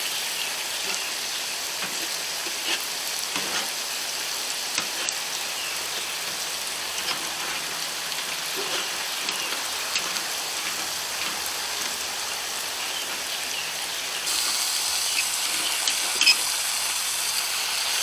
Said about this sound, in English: So I'm going to rinse those some more and get them all together.